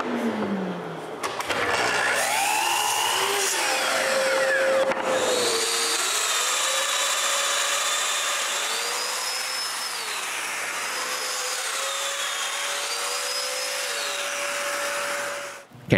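Domino joiner power tool cutting mortises in short pieces of wood for a clamp rack: a loud, steady motor whine that rises and dips in repeated plunging sweeps, close up and without voices.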